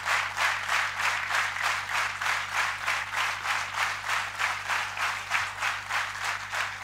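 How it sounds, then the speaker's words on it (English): Steady applause from an audience after a presentation, with a pulsing, rhythmic clapping that stays even and fairly close throughout, with no talking over it. "I truly appreciate the spirited applause"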